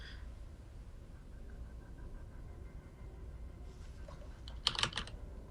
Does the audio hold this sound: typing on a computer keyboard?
yes